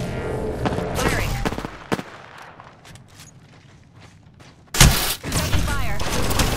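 Gunfire and explosive booms from the Apex Legends shooter game, with heavy bursts at the start and a loud blast near the end, mixed with game voice lines and other in-game noise.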